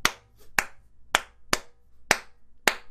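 Hands clap out a steady rhythm during a soulful pre-Shabbat concert, six sharp, close claps spaced evenly about half a second apart with quiet gaps between.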